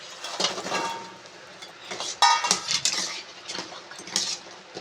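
Fried gavvalu shells tumble into sugar syrup in a metal pan, making clinking and clattering knocks in irregular bursts close by, with a sharper rattle partway through.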